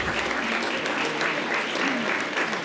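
Sustained, dense applause from a large crowd at an outdoor kick-off rally for the New York City Census 2020 count, steady and loud throughout with no break.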